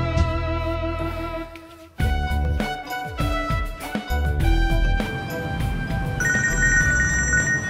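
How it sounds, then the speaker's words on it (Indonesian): A mobile phone ringtone plays a melodic electronic tune, repeating in phrases close by and fairly loud, with no talk over it. "Pur, itu yang bunyi handphone saya ya Pur?"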